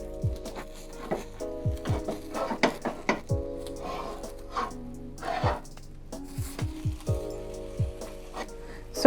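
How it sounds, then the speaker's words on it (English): Kookoo sabzi, a Persian herb frittata, is loosened and flipped in a frying pan: repeated sharp scraping and clacks of a utensil against the pan over a low sizzle, with a steady hum behind. "I'm gonna loosen it up a little bit so when I flip it"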